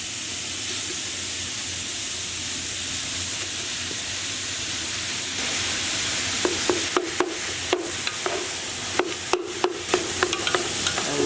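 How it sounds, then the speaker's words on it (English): About 1.5 kilos of beef mince fries and browns in a pan with softened onion, a steady close sizzle broken in the second half by sharp scraping and stirring knocks. "We just want to continue cooking until our meat has browned"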